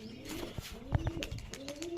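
A pigeon coos softly nearby in low, throaty bursts, with faint chirps and background noise.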